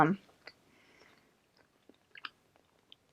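Someone chewing a bite of an English muffin breakfast sandwich with pancake flavour and bacon, soft close-up crunches and small clicky bites after a brief breathy sound, quiet and intimate.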